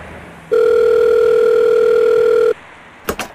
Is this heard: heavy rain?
no